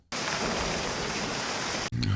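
Heavy thunderstorm rain pours as a dense, loud, even hiss that starts abruptly, holds steady, then cuts off sharply near the end, where a brief tonal sound follows.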